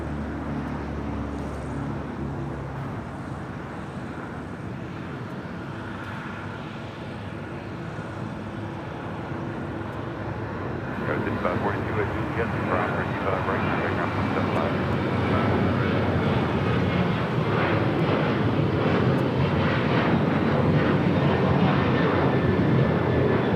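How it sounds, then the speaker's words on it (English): Delta Airlines 737-900ER bound for Cabo takes off at LAX, a steady jet roar building louder after the midpoint and holding to the end, with traffic-like rumble and faint voices beneath. "Next takeoff, Delta Airlines flight 1875 heading to Cabo in a"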